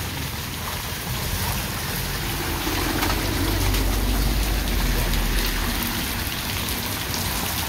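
Steady rain pours down in a neighborhood during a storm, a dense unbroken hiss of falling drops that swells slightly midway, close and loud throughout.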